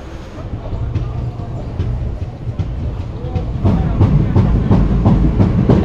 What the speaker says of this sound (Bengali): অম্বিকা কালনা ট্রেনটি ঢুকলো